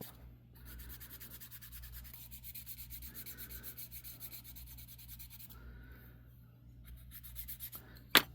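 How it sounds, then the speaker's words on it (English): A pre-cut leather strip for a belt-loop key chain is burnished with fast, steady rubbing that pauses briefly twice and ends in a sharp click; it is close and constant, with no voices. "let's burnish this now"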